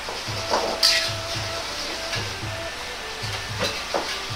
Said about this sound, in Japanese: 鍋にオートミールを入れ、 5分くらい乾煎りします。